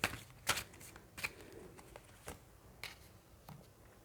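Tarot cards being shuffled and riffled in a quiet room, with short papery bursts at irregular intervals, fairly close and soft, and no talking.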